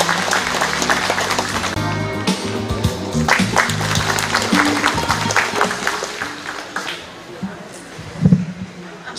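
Applause from the audience at a ground-breaking and completion ceremony for an agricultural cooperative seedling nursery in Icheon, Korea, heard as a crowd clapping mixed with background music and a brief louder thump near the end.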